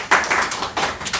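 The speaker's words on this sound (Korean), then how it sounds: "우리 박수로 축하하겠습니다" Church congregation applauding together during a Christmas thanksgiving service, a short burst of clustered hand claps, fairly close and dense, alone with no talking.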